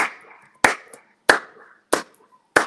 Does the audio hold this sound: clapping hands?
yes